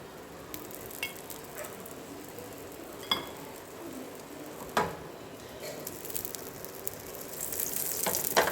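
Dhirde batter pancake sizzling on an oiled pan, a soft steady sizzle with occasional utensil clinks, faint and close.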